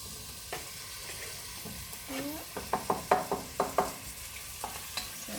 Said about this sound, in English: I don't know if you can hear that sizzling away.